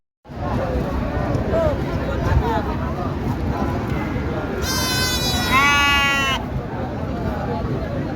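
At a busy sheep market, one sheep gives a loud, wavering bleat over a constant hubbub of crowd chatter and people talking.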